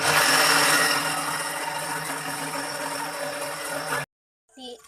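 Kitchen mixer grinder whirring as it grinds soaked rice with water into dosa and idli batter, a loud, steady motor drone that cuts off abruptly, followed by a brief clatter.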